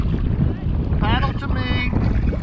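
A kayak paddle dips and pulls through open water at Cape Lookout, with splashing strokes close by under heavy wind buffeting the microphone.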